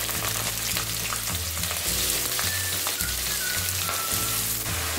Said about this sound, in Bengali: সমস্ত লাউয়ের টুকরোটা দিয়ে দিয়েছি।